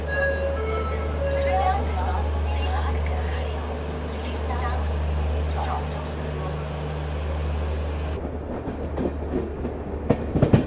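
The Bhopal Shatabdi Express departs Gwalior station with a loud, steady low rumble of rolling stock, then rhythmic wheel clatter builds near the end as it gathers speed, with someone talking over it.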